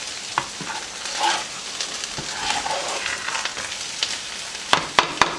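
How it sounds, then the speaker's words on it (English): Shrimp sizzling in a very hot pan while making fried rice, a steady close frying hiss broken by a few sharp scraping clicks of stirring toward the end, with no talking. "Shrimp only takes about 3 minutes to cook in a pan this hot."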